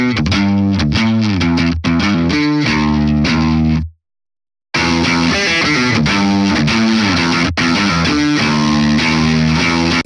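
Heavy, tight distorted electric guitar chugs through palm-muted riffs and sharp stabs, breaks off into a short silence, then returns just as loud and dense.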